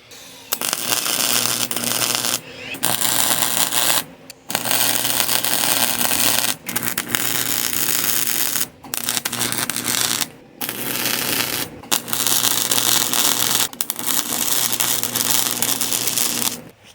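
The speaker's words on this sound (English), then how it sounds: "And we'll MIG weld these in right quick." A MIG welder lays down welds in long, loud crackling bursts separated by short pauses, heard close up with no talk.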